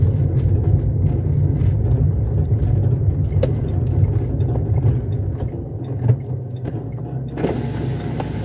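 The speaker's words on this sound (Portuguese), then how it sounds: "Vou encostar o carro aqui na sombra mesmo." Car slowing and pulling over to park in the shade near Guriri beach, Espírito Santo, a steady close engine rumble and road noise with a few faint clicks and thumps toward the end.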